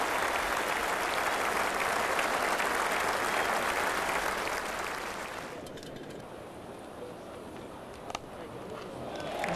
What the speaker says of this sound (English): The Australians applaud.